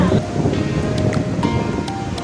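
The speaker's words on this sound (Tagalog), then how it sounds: "Medyo maalon at saka umaambon ngayon." Rough sea waves break at Boracay beach in early morning drizzle, a continuous rushing surf noise with wind buffeting the microphone, steady and fairly loud throughout.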